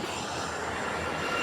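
A helicopter waits on a grassy field near soldiers, its engine giving a steady, loud broadband roar with a low rumble that holds constant throughout, no talk over it.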